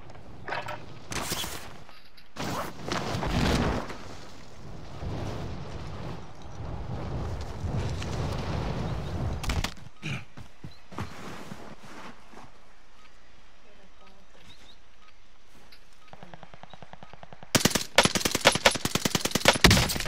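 Automatic gunfire in the shooter Call of Duty: Modern Warfare comes in loud rapid bursts early on, fades to quieter scattered shots, then a sharp close burst near the end, with speech partly over it.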